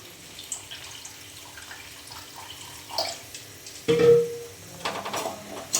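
Water is poured into a pan of frying crab, a sudden hissing splash after quieter clinks and stirring, with a few more bursts of sizzle and movement following nearby.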